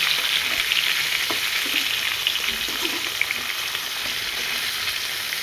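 Food fries in hot oil with a continuous dense sizzle and crackle, steady and close, no voices.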